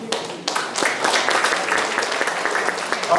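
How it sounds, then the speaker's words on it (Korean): A church congregation applauds a guest speaker as he comes forward to bring a message, with dense, steady clapping filling the space throughout. "이제 오실 때에 여러분 나올 때 뜨겁게 박수로 맞아주시기 바랍니다."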